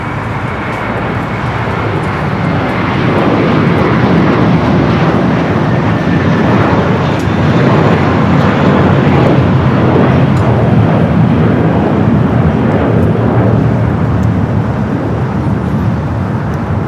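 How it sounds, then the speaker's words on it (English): A Western Global cargo jet taxis along a LAX taxiway toward the runway, its engines making a loud, continuous roar and rumble that holds steady throughout. "We got that Queen of Western Global now starting its taxi down Alpha"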